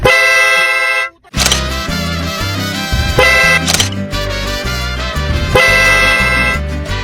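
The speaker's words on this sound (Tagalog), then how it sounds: "Ba't ganun busina ko na?" A car horn, rigged to sound from inside the vehicle, blares in repeated long honks, loud and close, with a brief gap near the start.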